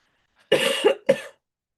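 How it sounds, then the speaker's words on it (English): A single sharp cough followed by a second shorter cough, close and loud, with silence around them. "my cough should die down in a little bit"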